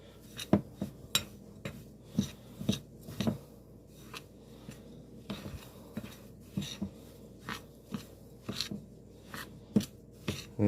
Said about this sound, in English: our bowl of oats and peanut butter and vanilla is going to get mixed up the best we can